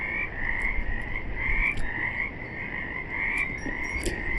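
Frogs at a pond croak in a dense, continuous chorus of repeated trilling calls, loud and close, with no talk over them.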